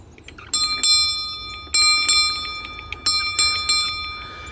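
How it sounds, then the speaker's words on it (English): A little bell in a community orchard garden in Sheffield rings out clearly, struck again and again at an uneven pace. Its bright tones ring on and fade between strikes, with no voices nearby. "Little bell."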